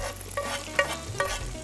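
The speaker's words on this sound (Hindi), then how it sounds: "ये जो आवाज़ आती है इससे पता चलता है कि तड़का जो है वो अच्छे से लग गया है।" Tadka spices tempering in hot oil give off a soft, crackling sizzle, with a few sharper pops and stirring clinks over a steady hiss, fairly close and with no voices.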